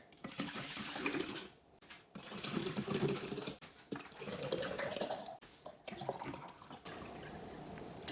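Water glugs and splashes as 1-liter bottles are emptied one after another into a jug, bursts of pouring separated by short pauses, fairly quiet and close with no talk.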